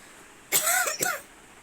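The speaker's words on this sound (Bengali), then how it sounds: "এত কাশি হচ্ছে" Two close coughs from a woman with a sore throat, a harsh first cough followed quickly by a shorter second one, alone in a quiet room.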